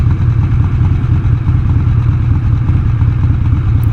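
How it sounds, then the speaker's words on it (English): An old Harley-Davidson Ironhead motorcycle idles loud and close after warming up, its uneven, clattery lope thumping steadily throughout. "I'm gonna drop the idle down on this."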